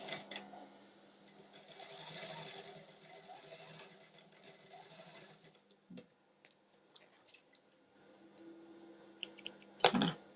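A sewing machine stitches a shirt collar with a steady, quiet mechanical whir and ticking. The stitching pauses briefly near the middle, then ends with a louder clattering burst.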